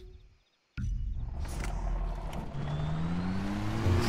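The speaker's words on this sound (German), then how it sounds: "LKW, neues Fahrzeug." A heavy truck in Far Cry 3 starting up after a brief silence, then a loud engine roar building as it drives off and revs, with rising whine toward the end.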